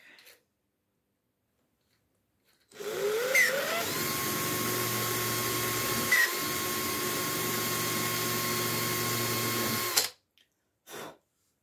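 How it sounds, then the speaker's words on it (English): A power drill whines at a steady high pitch for several seconds, grinding continuously with a brief dip midway, close and loud, then stops. "I'm going to try one of the Dremel bits in our drill"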